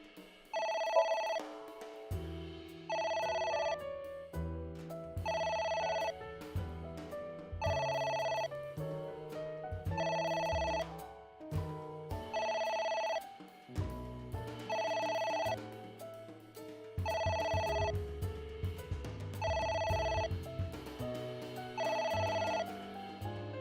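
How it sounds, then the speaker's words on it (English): A telephone rings in the video game AI: The Somnium Files, repeating in evenly spaced electronic bursts layered over a low synth music track. "It's ringing again."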